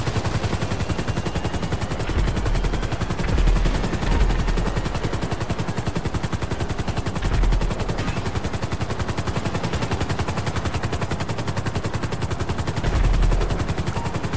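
Continuous rapid machine-gun fire at helicopters in the GTA Online video game, a loud dense rattle of bullets with heavier thumps of other guns or rotors pulsing through it.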